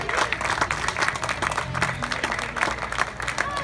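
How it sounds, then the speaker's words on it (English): Applause from an audience at a Portland, Oregon hot dog eating contest, many hands clapping in a sustained, even roar with a few louder bursts, continuing for a few seconds. "A round of applause for all our contestants."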